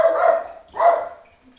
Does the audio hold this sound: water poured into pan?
no